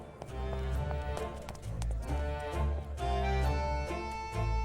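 Horse hooves clip-clop in a steady rhythm as a small horse carriage passes in The Great Ace Attorney Adventures video game, mixed with background music.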